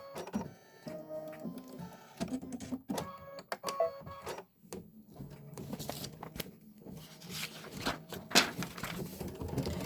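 Embroidery machine stitching a Kimberbell design, close busy mechanical whirring and clicking with shifting pitch and rhythm, running continuously with brief dips.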